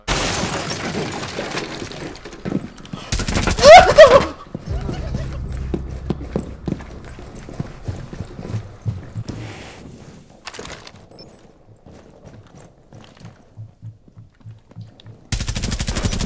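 Gunfire in the tactical shooter game Rainbow Six Siege crackles in loud automatic bursts near the start and end, with quieter shots, rhythmic footsteps and scattered in-game clatter between.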